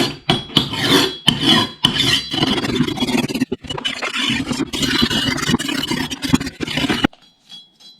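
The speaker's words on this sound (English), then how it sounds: "I put some edge on it with this cheap whetstone" A Brazilian-made Tramontina 59 cm (18-inch) 1070 carbon steel machete is worked against a cheap whetstone. Loud, close, rhythmic rasping strokes repeat steadily for about seven seconds, then stop abruptly.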